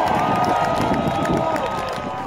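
A crowd of SpaceX workers at Boca Chica cheering after a Starship prototype test, a dense, continuous roar of many voices, loud and close and sustained throughout.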